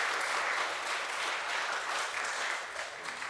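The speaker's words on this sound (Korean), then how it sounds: "박수로 환영하겠습니다." A Sunday worship congregation gives warm applause to welcome visiting grandparents. The clapping is steady, moderately soft and slightly distant, and it holds evenly before tapering a little at the end.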